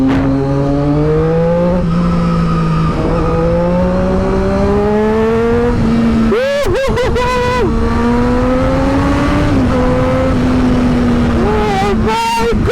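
A Triumph Daytona 675R three-cylinder sport bike with an SC Project exhaust, close and loud, holding a steady rising drone with sharp blips and revs midway and near the end, while a voice talks over it.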